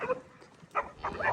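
Herding dogs bark at lost cows in a hidden cowboy corral, giving a few short, sharp outdoor barks in quick bursts at moderate distance, with no talk.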